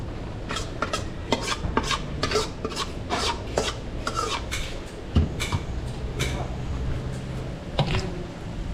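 Chicken liver is stirred in a pan in a catering kitchen. A spatula makes repeated rasping scrapes against the metal, about two per second, over a low, steady background of frying.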